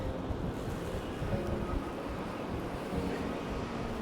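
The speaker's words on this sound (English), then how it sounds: "there's some cracking waves coming in on these rocks down here" Waves breaking on coastal rocks in Cornwall, a steady broadband wash of surf with wind buffeting the microphone, continuous and moderately loud with no voices.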